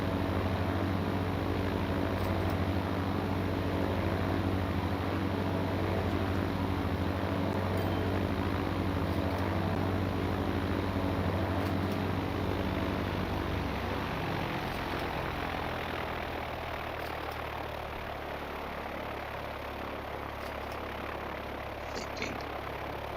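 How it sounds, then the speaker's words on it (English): Airplane taking off in the video game Transport Fever 2, a steady droning engine hum with layered tones that slowly shift and fade, heard alone without talk. "the plane is taking off over village, city"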